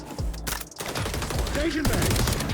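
Gunfire in the video game XDefiant, a dense burst of rapid shots with game effects and a voice talking over them.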